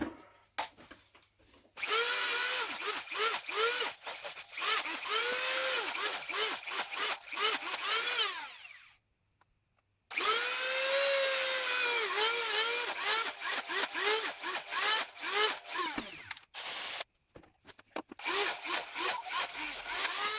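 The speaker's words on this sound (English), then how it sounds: "We're just going to sand them real quick, clean them up" Filled holes on a wooden pole are sanded by hand in a workshop in two long bursts of rasping strokes, close and steady, with a pause between them and brief quiet gaps near the end.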